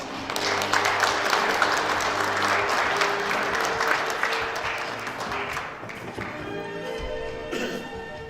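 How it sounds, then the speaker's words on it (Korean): An audience at a morning lecture event gives loud, steady applause lasting several seconds before it thins out, with some stray sounds near the end. "많은 박수 부탁드립니다."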